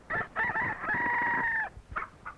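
A rooster crows loudly and close at a cockfight in 1930s Haiti, one long drawn-out cock-a-doodle-doo followed by a couple of short clucks, with no talking.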